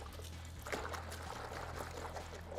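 Car wash soap poured into a detailing bucket, a steady liquid trickle and gurgle running continuously at close range for a few seconds, with no talking.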